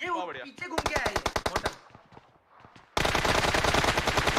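Automatic rifle fire rings out in the battle royale game BGMI during a team deathmatch, a crisp burst of rapid single shots, a brief lull, then a loud continuous spray of fire up close, with a player's voice briefly heard.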